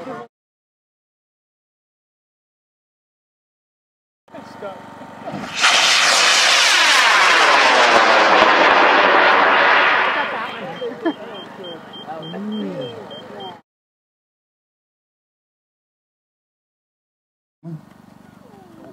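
Model rocket on a J285 motor launching at a research launch event: a sudden loud roaring burn that fades as the rocket climbs away, with people talking and cheering around it.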